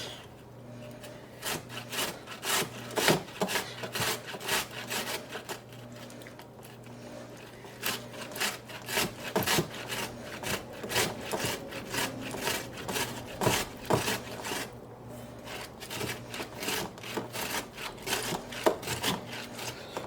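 A tomato is rubbed against a hand grater over a bowl in quick, repeated rasping strokes, each a short scratchy swipe in an uneven rhythm with brief pauses, heard close and fairly quiet without talk.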